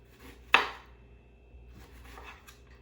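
A knife cutting through a lemon into thin slices on a board, one sharp close chop followed by softer faint cutting sounds.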